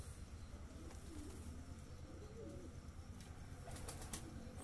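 Giribaj high-flying pigeons in a cage give soft, low coos and occasional wing flutters, faint and close, over a constant background hum.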